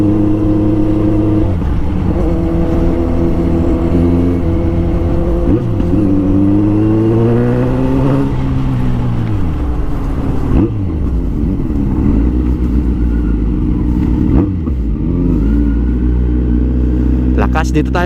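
Kawasaki Z900 motorcycle engine revving, its pitch rising and falling in repeated sweeps over a deep steady rumble, loud and near, with someone talking over it.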